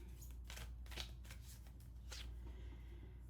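Tarot cards being shuffled in quick riffling bursts, a steady papery flutter heard close up with no talking.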